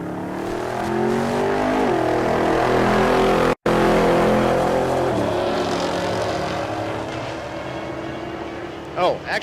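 Drag race cars, including a Corvette in the left lane, roaring down the strip at Tulsa Raceway Park: loud, sustained engine howl with climbing pitch that fades as they pull away, under a commentator's voice.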